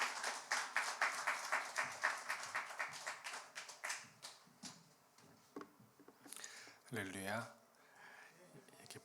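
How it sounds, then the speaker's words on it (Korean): Rhythmic, evenly paced clapping from a church congregation during a Sunday worship service, fairly quiet and fading, followed by a brief voice near the end. "우리 박수로 맞아주시기 바랍니다."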